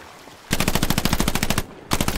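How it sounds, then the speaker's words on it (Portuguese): Machine-gun fire in a World War II video game: a rapid burst of about fifteen sharp shots, a short pause, then another burst starting, loud and close. "o tiroteio tá pegando mesmo"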